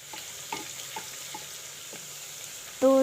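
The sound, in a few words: garlic ginger paste frying in hot oil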